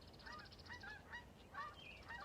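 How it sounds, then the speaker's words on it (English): Geese honk in a quick run of calls outside a home yoga session, several overlapping honks that sound faint and distant. "Here come my geese."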